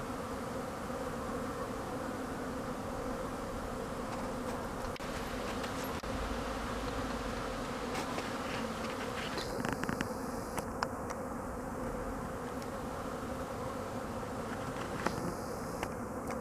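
A dense, continuous drone of many honeybees buzzing at a hive entrance in midwinter, steady and fairly soft, with occasional faint higher whines passing.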